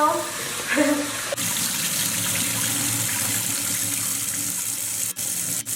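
Tap water gushing steadily into a sink as lentils are rinsed, a continuous close splashing rush with a brief clatter at the start.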